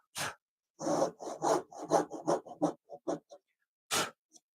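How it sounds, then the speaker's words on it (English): Hand chisel paring and cleaning up a cut in wood for an angle bracket, giving a run of short, close scraping strokes in quick rhythmic bursts, then a pause and one last rasp. "We can get that cleaned up with a chisel"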